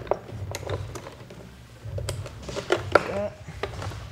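Original headlight bulb connector unclipped from a bulb on an 06-13 Subaru Impreza, soft plastic clicks and fiddling taps close by, with a voice speaking over them.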